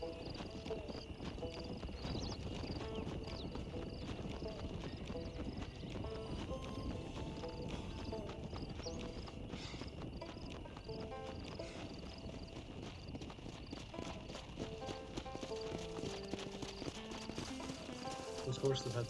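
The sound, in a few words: horse hooves clip-clopping in video game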